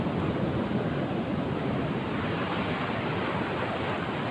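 Steady ocean waves washing onto a sandy beach, a continuous broadband roar with no pauses, loud and close, with wind buffeting the microphone.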